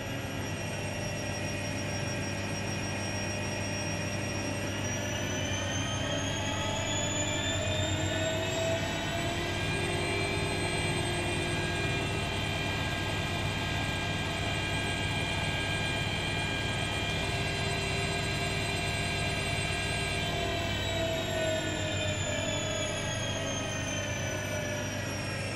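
An Electrolux EWF 146410 W washing machine motor hums loudly and steadily. Its whine rises in pitch as the drum speeds up into a spin, holds for a while, then winds slightly back down.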